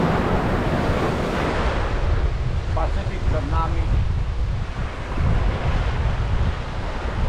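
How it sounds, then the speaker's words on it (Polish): Ocean waves crashing against rocks near the Golden Gate Bridge in San Francisco, a continuous loud roar of surf with heavy wind buffeting the microphone and brief speech partway through. "Fala leci i rozbija się o kamień."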